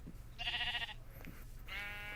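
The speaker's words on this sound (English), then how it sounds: "Ooh, sheep." A Minecraft sheep bleats twice in quick succession, each a short, nasal, buzzy baa, heard close over a low, steady background hum.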